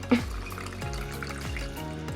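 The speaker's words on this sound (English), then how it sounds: "Fill up with filtered water, because you want to dechlorinate." Water pouring into a jar with filtered water for homemade vinegar, a steady trickling fill with soft splashy bubbling throughout and one small clink at the start, close and fairly quiet.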